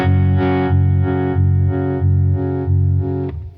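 Jam Pedals Harmonious Monk harmonic tremolo pedal set to intense mode, processing a sustained electric guitar tone into a strong, steady pulsing throb, about six loud regular swells before the note cuts off.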